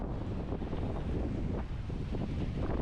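A new sailboat under way with all sails up, heard as a constant loud rush of wind buffeting the microphone over churning water and waves against the hull, no talk.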